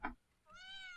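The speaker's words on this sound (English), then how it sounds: "hey there, cat. Meow." A single cat in the video game Ako: A Yandere Love Story gives one short, clear meow, rising then easing off, after a brief soft thump. It is close and quiet.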